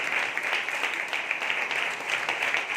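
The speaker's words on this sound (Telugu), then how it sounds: "ఒకసారి సంతోషంగా జాయ్తో చప్పట్లు కొడతారా?" An audience at a Christmas church celebration claps together in a dense, steady burst of applause that fills the room.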